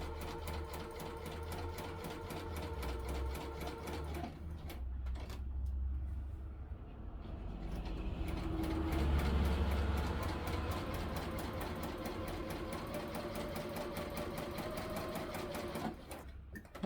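A sewing machine stitches a 1.5 cm Hong Kong seam down a pair of pants with a fast, steady mechanical whir and needle clatter. It slows briefly partway through and then runs on, loud and close.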